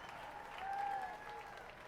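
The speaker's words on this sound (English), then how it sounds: "So the crowd gives him a hand." A baseball crowd at a minor-league game gives a brief round of applause for a batter hit by a pitch, a soft, distant patter of clapping that swells slightly and then settles.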